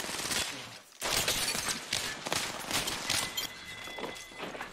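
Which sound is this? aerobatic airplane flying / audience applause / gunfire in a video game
gunfire in a video game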